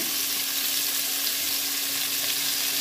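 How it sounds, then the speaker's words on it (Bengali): Potatoes, carrots, capsicum and cauliflower frying in hot oil, making a steady loud sizzle that keeps on without a break. "ওই তেলের মধ্যে আমি এক এক করে সবজিগুলো ভেজে নেব।"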